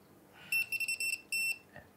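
A high electronic beeping from a digital torque screwdriver reaching its set torque value, a rapid series of short tones followed by one longer steady beep, fairly faint and close.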